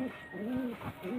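Rampuri pigeon cooing close by, a few soft rolling coos in steady succession with a faint background hum.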